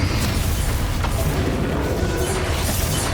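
Confringo spell explosions in Hogwarts Legacy, a dense, loud rumble of booms and bursts that runs without a break through a battle scene.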